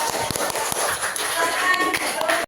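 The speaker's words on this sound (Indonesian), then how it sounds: "Tepuk tangan buat kelompok 2" Classroom clapping for a student group after a presentation on bullying, a dense patter of many hands with scattered sharper taps, steady throughout and fairly close, with background chatter mixed in.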